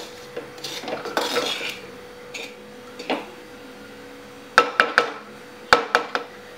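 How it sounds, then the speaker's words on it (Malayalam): Rice is stirred into a clay pot used for frying prawns, with soft scraping and rubbing strokes early on, then several sharp knocks of a spoon against the pot, close and moderately loud, with no talking. "അപ്പം നമുക്ക് നന്നായിട്ട് ഇളക്കിയെടുക്കാം."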